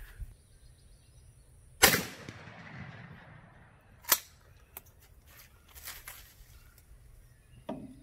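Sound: 12 gauge shotgun shot at paper target

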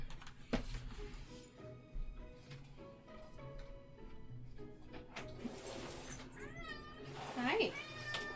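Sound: cat meowing to be let in

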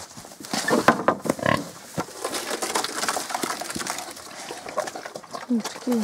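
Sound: piglets grunting on a village farm

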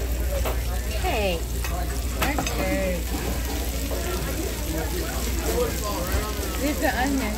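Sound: onions frying in a pan

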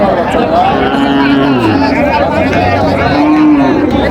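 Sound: cow with calf lowing at cattle market

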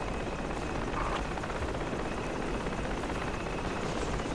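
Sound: enemy helicopter landing in a video game

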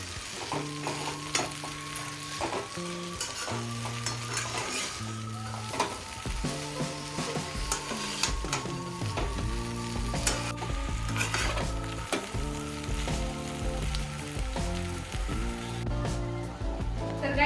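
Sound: stir-frying Hakka noodles with spring onions in a pan

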